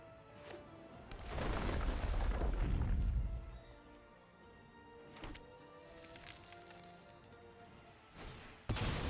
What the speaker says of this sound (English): Ooh, ill-timed explosion.